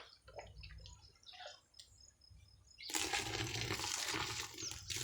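Water runs out of a large intestine being cleaned, starting as faint, scattered drips and trickles and then turning into a louder, steady gush of draining water close by.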